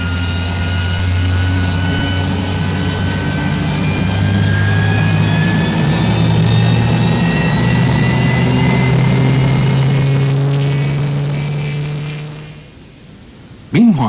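South African Air Force gunship aircraft scramble on a counterinsurgency operation, a loud sustained engine and rotor drone with rising whine that holds steady for about twelve seconds, then cuts away abruptly.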